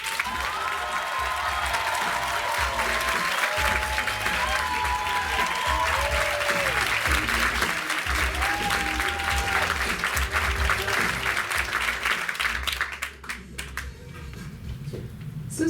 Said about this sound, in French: Je vous demande, comme c'est la première participante, de faire un tonnerre d'applaudissements à Nathalie.